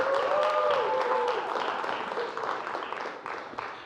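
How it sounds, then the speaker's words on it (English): Studio audience applauding the writers of a comedy show, a dense wash of clapping that starts strong and slowly thins, with a voice talking over the opening moments. "Give them a round of applause while I still like them."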